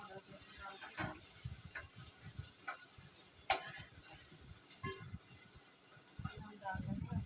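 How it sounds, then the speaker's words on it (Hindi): Chicken pieces frying in a little oil in a karahi pan, a steady soft sizzle with scattered clicks and stirring scrapes, fairly faint and continuous throughout. "चिकन हम थोड़ा तेल में फ्राई करेंगे"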